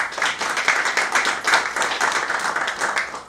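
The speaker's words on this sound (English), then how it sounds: "I think they deserve another hand of applause" An audience at a vehicle handover ceremony gives a round of applause, dense, even clapping from many people sustained throughout, fairly loud and close.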